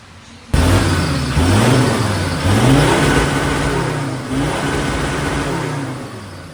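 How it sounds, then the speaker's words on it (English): A Mazda BT-50 3.2L engine roars loudly and revs up repeatedly, the pitch climbing and dropping back each time as it hits the hard-cut rev limiter. "we've got a hard cut limiter in there as well. I might show you my hard cut"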